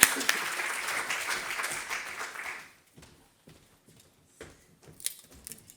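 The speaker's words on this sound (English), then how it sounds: "So can I just ask that we give another big round of applause for 4C?" A showcase audience claps in a moderate round of applause that fades out after a few seconds, leaving scattered faint taps, shuffles and room noise.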